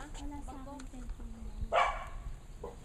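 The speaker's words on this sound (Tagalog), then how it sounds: "may aso na. Kapit bahay." A neighbour's dog gives a short burst of barking partway through, heard under a person's voice.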